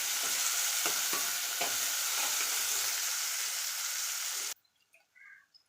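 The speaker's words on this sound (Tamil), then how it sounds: "போட்டு வதக்கிட்டு, வெங்காயம் வதங்கும்போது கொஞ்சம் உப்பு போட்டுக்கலாம்." Onions sautéing with rock salt in a pan give a loud, dense, hissing sizzle with a few scraping stirs, then cut off abruptly to near silence with faint small sounds.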